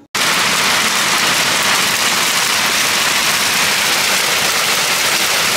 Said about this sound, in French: Quand il pleut, c'est pas pour rien ici, hein. J'ai l'impression même que de la grêle.